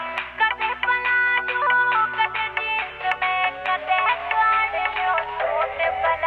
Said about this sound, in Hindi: ले फोन सुनियो किसका आ रहा है